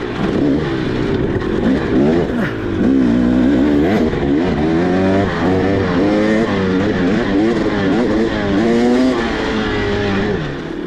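A 2023 300XC enduro motorcycle revving hard over stutter bumps at Peach Valley, the loud close engine note rising and falling rapidly in choppy bursts as the throttle works through the rough ground.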